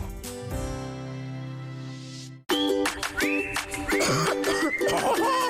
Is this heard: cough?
yes